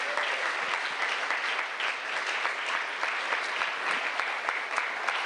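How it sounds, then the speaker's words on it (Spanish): Church congregation applauding loudly after a call to praise, steady dense clapping from many hands filling the room with no voices over it. "Den el aplauso fuerte al Eterno."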